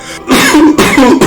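Two harsh, loud coughs close up, each a rough raspy burst from the throat with a short pause between them.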